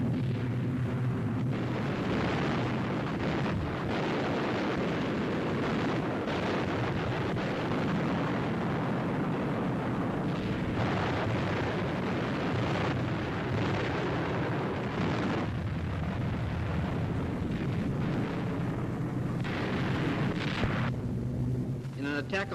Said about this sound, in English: Accurate heavy flak met the bombers.